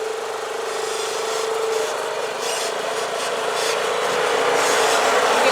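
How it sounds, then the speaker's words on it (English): A turbocharged Honda Pioneer 500 side-by-side engine runs at a steady idle, with a constant loud drone and a faint whistling whine on top. The level builds slightly toward the end, and no one speaks. "Well, I can hear that turbo."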